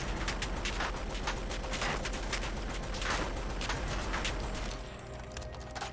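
Sustained automatic fire from a carry-handle Lewis gun with a pan magazine in modded Fallout 4, a dense rapid rattle of shots that runs continuously for about five seconds before easing off.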